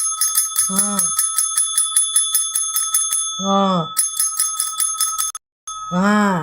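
A small bell rings in rapid, steady repeated dings, nearly continuous and bright, while a voice speaks briefly over it several times.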